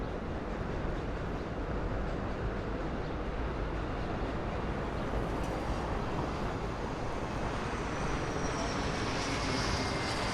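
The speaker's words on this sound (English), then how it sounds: "These planes are just coming so close to me." Airplanes flying low over Queens, New York City, a loud, steady roar of aircraft engines filling the air throughout with no talking.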